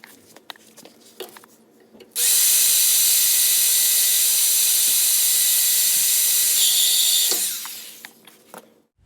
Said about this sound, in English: I got my holes drilled.